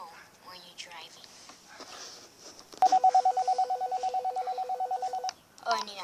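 A telephone rings in a car while someone drives, giving a steady train of rapid electronic ring pulses lasting a few seconds, with speech before and after.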